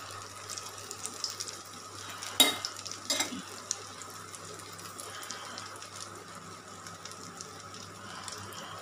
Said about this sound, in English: I'll add half a portion of the mixture in the pan. Spread it.